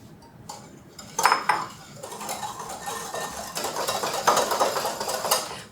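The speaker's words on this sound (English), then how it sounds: "we are going to whisk everything together and go ahead and start with my eggs" A whisk clatters against a bowl, beating eggs and sugar for a buttermilk pie. Rapid metallic scraping and tapping builds and grows steadier over a few seconds, close and clear, with no talking.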